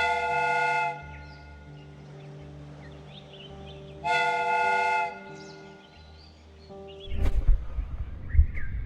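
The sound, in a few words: steam whistle blowing, from the video game Sherlock Holmes: Crimes and Punishments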